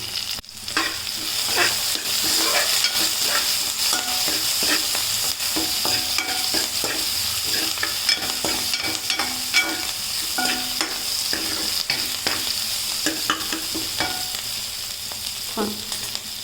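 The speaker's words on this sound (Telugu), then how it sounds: "కరివేపాకు కొంచెం వేసి బాగా రోస్ట్ చేసుకుందాం" Curry leaves roasting in a pan for egg bhurji: a continuous close sizzle broken by frequent clicks and scrapes of a spoon stirring, steady and moderately loud for the whole stretch, with no talk.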